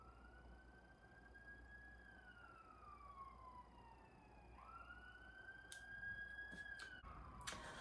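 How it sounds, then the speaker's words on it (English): A police siren wails outside at 4 a.m., a faint rising and falling tone sweeping slowly from a distance, followed by a few short sharp clicks near the end. "Of course there's sirens when I am right about to start filming."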